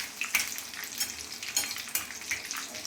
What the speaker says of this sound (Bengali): এখানে একটু ফোড়ন দিয়ে দিলাম, জিরে আর শুকনো লঙ্কা